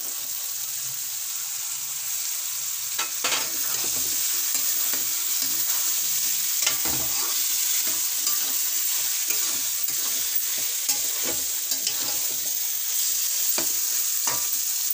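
Potatoes fry in a pan of hot oil with a loud, steady sizzling hiss, punctuated by occasional scrapes and knocks of stirring, close by and without talk.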